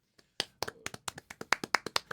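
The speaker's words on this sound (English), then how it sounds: "We're clapping" Hands clap loudly right at the microphone, about a dozen sharp claps speeding into a quick uneven rhythm, each one peaking hard.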